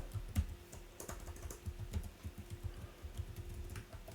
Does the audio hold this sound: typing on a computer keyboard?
yes